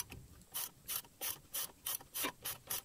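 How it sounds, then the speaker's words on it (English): A ratchet with a 15mm socket loosens wheel hub bolts on a BA/BF Ford Falcon, giving eight evenly spaced, crisp clicking bursts close by. "with a 15mm socket, go ahead and loosen these bolts"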